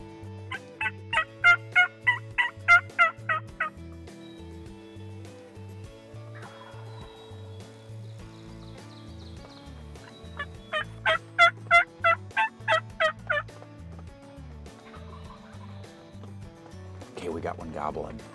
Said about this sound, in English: Okay, we got one gobbling